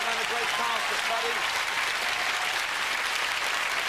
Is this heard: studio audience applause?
yes